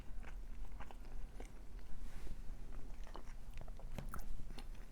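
Someone bites into a flaky Cuban guava and cream cheese pastry and chews, producing soft close crunches and crackly flakes breaking in irregular bursts over a quiet background.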